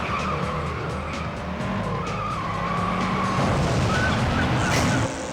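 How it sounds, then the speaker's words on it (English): A car power slides with loud, sustained tire skidding over a steady engine roar in the Hot Wheels: Stunt Track Challenge racing video game on PS2, continuous and close, with no voices. "power slide on this one to hold the road"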